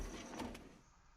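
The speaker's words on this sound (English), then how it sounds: "Let's open these A drawers." Desk drawers sliding open in the game What Never Was, a short wooden thunk and slide that fades quickly, with no talk over it.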